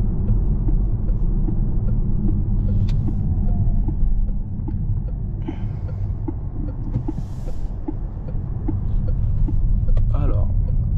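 A Peugeot 408 GT with 225 hp, driven in sport mode, gives a steady low road rumble and engine drone from inside the cabin. The sound runs continuously at a fairly even level with small surges.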